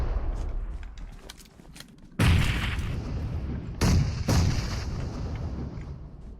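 Three loud, booming grenade blasts in PUBG Mobile burst out with a sharp attack and rumbling tail, the first alone and the next two close together, over faint background gunfire.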